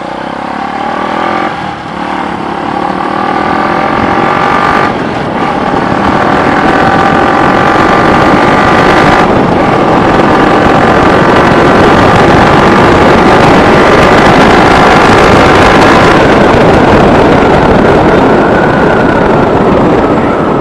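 A Bajaj Pulsar RS200 motorcycle fitted with an SC Project exhaust runs loud and close, its engine roar rising and swelling with throttle blips.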